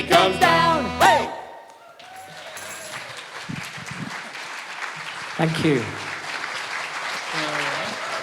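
A live audience at a songwriting event applauds a folk band after their song ends. Sustained clapping and cheers continue over the final notes, with a brief spoken thanks over the crowd.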